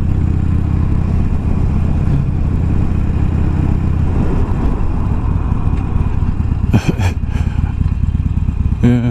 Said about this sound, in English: It's nice to see the bikes out again.